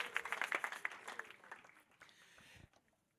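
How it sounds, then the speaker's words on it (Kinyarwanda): A church congregation claps during a sermon, a quick burst of scattered hand claps that thins out and fades to silence within about two seconds. The clapping is fairly soft and distant. "Muyimpera amashyi"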